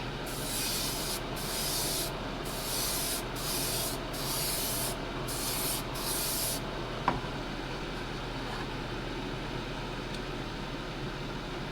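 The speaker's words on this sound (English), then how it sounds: "with the airbrush with some more sparkles, I hit the side and on the top over there and across on the front" An airbrush sprays a sparkle paint coating onto parts of a Tamiya Grand Hauler model truck in a series of short hissing bursts with brief gaps, then stops, leaving a low steady background hum and a single sharp tap.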